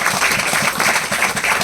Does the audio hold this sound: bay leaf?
no